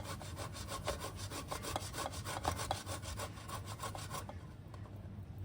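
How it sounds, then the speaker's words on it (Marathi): Boiled potato rubbed against a metal grater for a fasting aloo paratha, quick rhythmic rasping strokes in a steady series that stop near the end, close and clear. "आपल्याला बटाटा किसून घ्यायचा छानपैकी"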